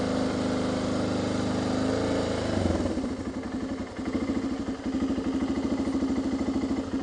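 A motorcycle engine idles with an uneven rhythm, first a smoother hum, then a lumpy, pulsing beat with a brief dip, heard close and alone on an overland ride through Greece.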